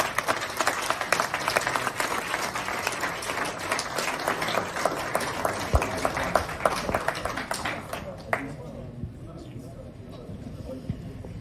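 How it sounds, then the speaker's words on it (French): Applause greets a top business leader at a company event in Côte d'Ivoire, with dense clapping running steadily for about eight seconds under a speaking voice before thinning out. "est-ce que tu applaudis là?"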